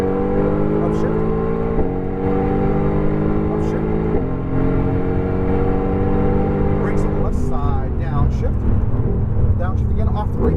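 A Mercedes-AMG GT R engine revs hard on a race track, its steady loud roar climbing in pitch through gears with brief drops at upshifts, while an instructor talks over it.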